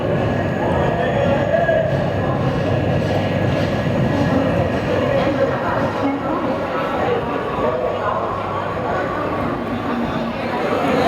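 The Mumbai–Ahmedabad Double Decker Express (12931) rolls in at Surat station with a steady rumble of wheels on rail and faint squeals, heard continuously from on board.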